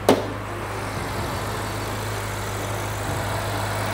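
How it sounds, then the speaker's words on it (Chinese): A twin-turbo V8 in a used BMW M car sits idling, giving a steady, low, fairly quiet hum with a constant drone after a short click at the start. "V8 双涡轮增压引擎。"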